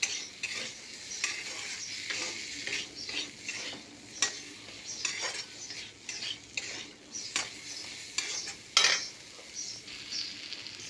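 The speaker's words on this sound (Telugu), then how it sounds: "బాగా వేచుదాం." Chili powder and spices frying in a pan for a bean and dumpling curry, with a continuous sizzle under frequent metal spoon scrapes and clinks against the pan, close and busy.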